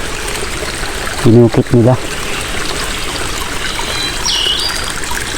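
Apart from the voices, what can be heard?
mountain stream flowing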